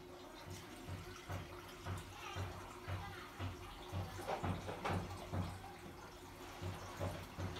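Water is added to a pan while making spicy ramen, an uneven splashing and gurgling pour with a rhythmic low pulsing underneath, moderately quiet and close.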